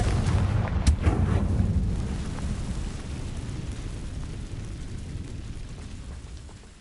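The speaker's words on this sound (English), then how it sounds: "Confringo!" A Confringo blast spell fires in Hogwarts Legacy on PS5, a heavy booming explosion that bursts loudly at the start and then rumbles and fades into a long low roar, with no voice over it.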